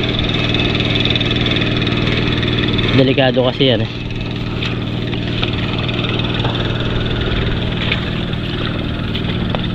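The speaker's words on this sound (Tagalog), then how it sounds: "Yan mga kuliglig, oh. Yan ang pinag-aakot nila ng motor." A kuliglig, a motorized cart used for hauling, idles with a steady low engine drone throughout, while someone speaks briefly over it.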